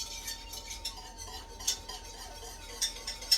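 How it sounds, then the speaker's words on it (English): A metal whisk scrapes and taps against a metal pan while stirring melted chocolate, giving faint, quick rhythmic clinks and scrapes with a few sharper metallic ticks and no voices. "I know you don't want to hear the metal against the metal"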